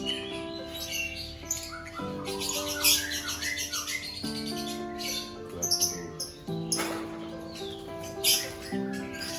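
Lovebirds at a large breeding setup give repeated sharp squawks and chirps, fairly close and busy, over steady tonal background music.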